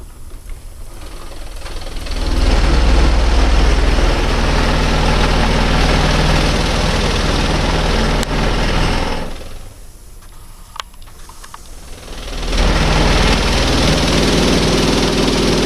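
A custom-built engine runs on a table, a loud, rough, chugging roar with air woofing out, easing to a quieter idle near the middle before surging back up.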